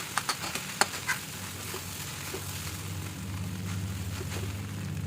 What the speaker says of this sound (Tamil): உதிர்த்து வச்ச இட்லி கலவையை அதில் போட்டுக்கலாம் நல்ல சூடு வர கிளறி விடலாம்